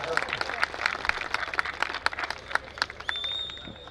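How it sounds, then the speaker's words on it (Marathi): A crowd at an outdoor kusti wrestling ground in Kesnand, Pune claps for two wrestlers, giving a rhythmic run of claps under someone talking, ending in a thin whistle-like tone. "टाळ्या करा दोघांच्यासाठी"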